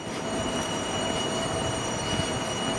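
A Koleje Małopolskie Kossak train at the underground platform of Kraków Główny station produces a constant loud rumble with a high, sustained wheel squeal and whine, echoing in the enclosed space with no talking.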